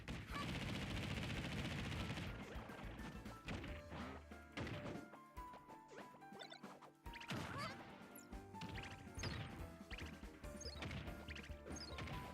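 Kirby shoots stars at enemies in a video game brawl, a dense barrage of crashing, thwacking impacts and rapid bursts that runs almost without pause, loud and busy throughout.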